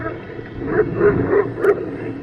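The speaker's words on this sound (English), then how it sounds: "There's the doggy." A charging stray dog barks four times in a steady rhythm, fairly close, with outdoor noise underneath.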